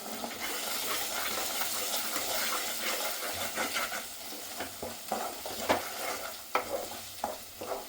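Coconut paste being stirred into a chana dal curry in a pan, a steady soft scraping and sizzling throughout with a few sharper spoon knocks toward the end, close and moderately loud, no talking.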